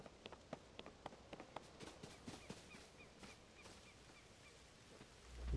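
A bird calls in the video game Tears of the Kingdom, giving a series of short, faint chirps and clucks spaced unevenly over a soft ambient outdoor backdrop, ending in a sudden low thump.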